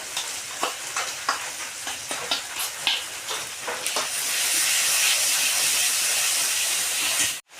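Hot pan of frying ingredients stirred with rhythmic scrapes, then a ground spice paste goes in and erupts into a loud, sustained hissing sizzle that runs to the end before cutting off; no speech.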